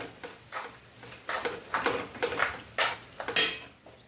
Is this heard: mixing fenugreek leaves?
yes